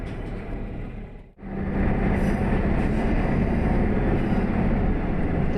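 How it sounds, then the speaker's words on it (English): A train on the Nishikigawa Clear Stream Line rumbles steadily along the rails beside the Nishikigawa River, a loud continuous rolling noise with a brief dip before it resumes at full strength. "The train is running along the west bank of the Nishikigawa River."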